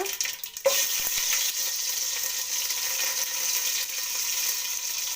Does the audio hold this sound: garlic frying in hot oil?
yes